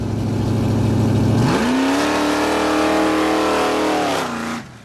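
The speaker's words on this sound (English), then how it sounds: "we gave them turns riding along and did a few more launches." The Flame Fox car launching at an airport, a loud engine roaring as it accelerates hard, pitch rising and holding high for a few seconds before cutting off abruptly.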